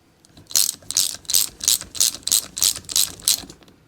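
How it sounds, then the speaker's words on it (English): Torque wrench clicking as a fastener on a Bosch VE injection pump is tightened to 65 foot-pounds on a 1989 Dodge Ram 5.9L Cummins; a loud, close run of about eight rhythmic ratchet clicks with no talking. "Your handy dandy torque wrench, we're at 65 foot-pounds. You hear the click, just stop."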